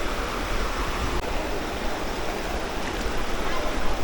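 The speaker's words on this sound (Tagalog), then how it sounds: "Saka may nakikita akong parang falls doon." A small waterfall with a gentle flow at a nature spot in Sta. Cruz, Murcia, Negros Island, Philippines, rushes in a constant, close hiss that stays loud and even.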